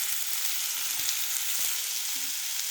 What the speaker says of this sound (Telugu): ఇప్పుడు 1/2 స్పూన్ జీలకర్ర, ఆవాలు, ఆనియన్ వేసుకొని ఫ్రై చేసుకోవాలి.